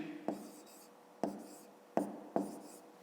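A pen writes numbers by hand on paper for a fifth-grade multiplication exercise, giving four separate scratchy bursts, each opening with a sharp tap, close and quiet.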